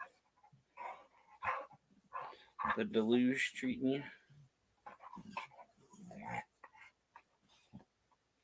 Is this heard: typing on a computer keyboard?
no